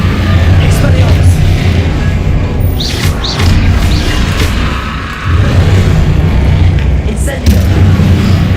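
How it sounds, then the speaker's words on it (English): The Expelliarmus disarming spell is cast in Hogwarts Legacy, giving a loud booming magical burst with crackling high sparkles over a heavy low rumble, followed by further dense combat blasts. "Expelliarmus."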